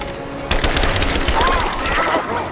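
Rapid automatic gunfire bursts loudly in the video game Rise of the Tomb Raider, a dense stream of shots beginning abruptly partway through, with game sound effects alongside.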